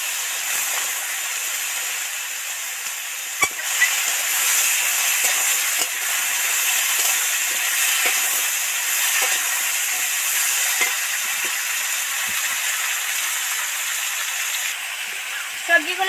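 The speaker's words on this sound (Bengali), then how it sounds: "সবজিগুলো তো তেলের মধ্যে দিয়ে নেড়ে চেড়ে নিয়েছি।" Vegetables sizzle in hot oil in a wok as they are stirred, giving a continuous frying hiss broken by occasional light clicks and scrapes of the spoon against the pan.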